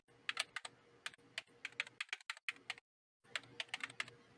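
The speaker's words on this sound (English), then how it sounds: "Typing that in the chat." Quick, crisp clicks of fingers typing on a computer keyboard come in irregular bursts, close and fairly quiet, with one brief full pause partway through.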